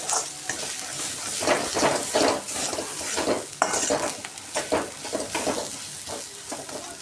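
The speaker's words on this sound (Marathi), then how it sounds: "कांद्यामध्ये छान पण परतवून घेऊया असा थोडा कच्चापणा कमी होईपर्यंत" Onions sautéing in a pan for a Kolhapuri chicken rassa, with a continuous close sizzle and repeated rhythmic scraping strokes of a spatula stirring them.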